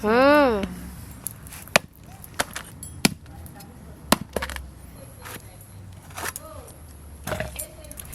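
Sharp, isolated chops of a cleaver through a large bhetki fish to cut off the head, several hard strikes spaced unevenly over a quiet kitchen background, with a voice talking at the start.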